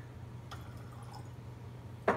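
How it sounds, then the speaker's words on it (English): Water drips into a glass of Redbreast 21 year old Irish whiskey in a few faint, close drops, ending with a slightly louder splash in a quiet room. "That's why I add some water, drop the ABV a little bit."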